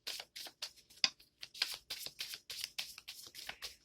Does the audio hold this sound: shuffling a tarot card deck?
yes